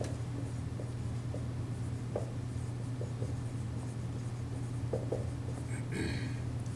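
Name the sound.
writing on a board while explaining a formula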